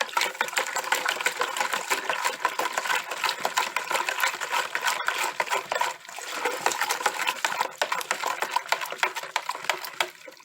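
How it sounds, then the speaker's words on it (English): A spoon stirs sweet tea in a lipped pot with a steady, busy scraping and clinking, close up and fairly loud, and it continues without a break. "We're going to stir this up."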